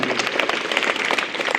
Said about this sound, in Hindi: तो उनके लिए जोरदार तालियां।